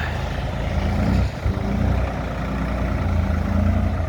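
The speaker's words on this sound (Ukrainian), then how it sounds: "Тепер ми катаємося вже на Солісі rx 50 із реверсом і з ходозменшувачем" A Solis RX 50 tractor fitted with a reverser and creeper gear drives along, its diesel engine holding a steady, loud drone with a brief dip partway through; no voices.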